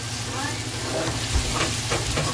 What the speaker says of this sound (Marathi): मिक्स करूया. लसूण थोडी फ्राय झाली